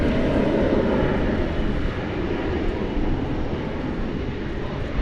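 An American airliner departing DFW Airport on runway 18 left at night, a loud, broad jet engine roar that holds steady and slowly fades as it climbs away.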